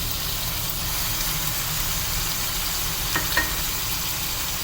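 Tomatoes go into a pan of potato and eggplant already fried with ginger, garlic and spices, producing a steady, close sizzle and frying hiss throughout, with a couple of brief stirring scrapes near the end.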